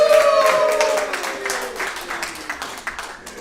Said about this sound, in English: If you want to give yourselves a round of applause.